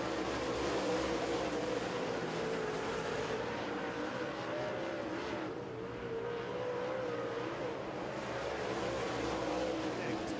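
Race cars roar around Dixie Speedway during a heat race at the Spring Nationals, a continuous loud, dense engine drone with rising and falling revs, while an announcer talks over it throughout.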